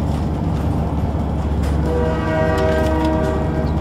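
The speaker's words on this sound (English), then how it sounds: "The train's noisy." Train in the Crysis Warhead video game: a loud, constant low rumble of the moving carriages, with a sustained horn-like tone swelling in during the second half.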